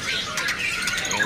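A Sumatran siri-siri songbird sings bright, rapid chirping phrases close by, with a soft background hiss and no voices over it.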